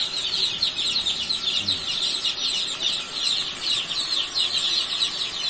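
Joper chickens during brooding cluck and chirp constantly as a dense, overlapping chorus from a flock, steady and moderately loud throughout with no other sounds.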